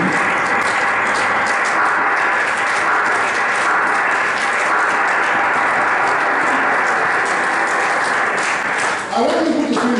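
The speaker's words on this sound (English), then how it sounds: "I want all of you to please rise up and give a clap ovation to His Royal Majesty" A standing ovation for His Royal Majesty, with an audience clapping in a continuous, dense roar that holds steady for ten seconds, with voices faintly underneath.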